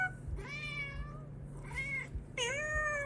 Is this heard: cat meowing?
yes